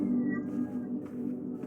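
A pet cat meowing indoors, drawn-out tonal cries heard close and fairly loud, with no talking.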